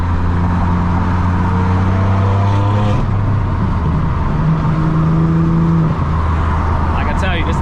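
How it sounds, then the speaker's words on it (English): A tuned BMW F80 with a transmission tune pulls hard from inside the cabin, engine drone rising through the gears with shifts and a steady loud road roar throughout. "This car is wicked fast."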